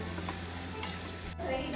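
Meal maker soya chunks fry in hot oil toward golden brown, giving a steady soft sizzle with a brief scrape of stirring partway through, heard close up with no talking.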